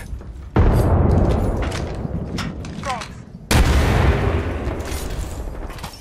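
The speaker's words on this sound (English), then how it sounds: "Grenade." Grenade blasts in the battle-royale shooter Apex Legends: two loud, sudden broadband booms about three seconds apart, each decaying into a rumbling wash, with game effects and chatter around them.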